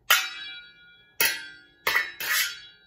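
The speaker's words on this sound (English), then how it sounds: "So pot lid cymbals." Metal pot lids struck together like kitchen cymbals: four bright, ringing crashes, the first two spaced apart and the last two close together, each shimmering and decaying slowly, with no talking.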